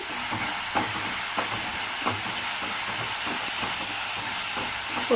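Chicken fry masala with kasuri methi being stirred in a hot pan, a steady sizzle and hiss with soft, regular scraping strokes of the spoon, close by and without voices.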